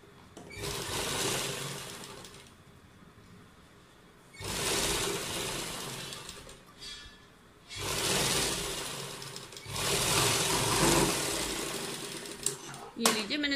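At a Punjabi suit's folded neckline, a sewing machine runs a rough basting seam in four loud, close bursts of rapid stitching with short quiet gaps between them.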